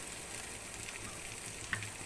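A soft, steady sizzle of ground paste frying in a kadai, faint and continuous with a small pop near the end.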